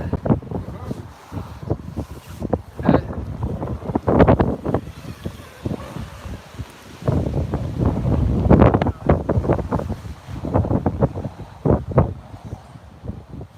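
Gusty outdoor wind buffets the microphone in uneven rushing waves at a drone racing field while people talk over it.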